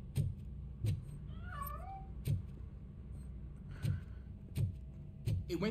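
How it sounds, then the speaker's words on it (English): A cat in the video game RoboCop: Rogue City gives a faint, brief meow against a quiet background that is punctuated by regular heavy thuds. "That cat must be hiding inside."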